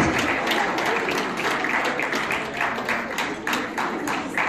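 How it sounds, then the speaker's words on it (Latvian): A crowd applauds steadily at the Baltic Champion of Champions Show, its dense clapping holding at a constant level throughout. "Please applaud, please support."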